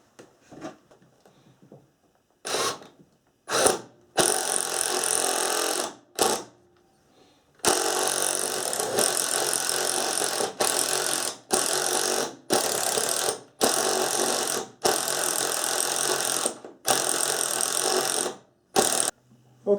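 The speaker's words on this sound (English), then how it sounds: "I'm going to drill the 13/16 hole right next to it for the 1/2 inch conduit" A drill boring a 13/16 inch hole through a wooden sole plate for 1/2 inch conduit during a bathroom floor-heat thermostat rough-in, heard as repeated loud whirring bursts of several seconds each, separated by short pauses, with no talk.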